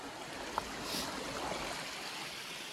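Flowing stream water reached on a mountain trek, a soft steady broadband rush with no voices over it, plus a single small click or splash early on.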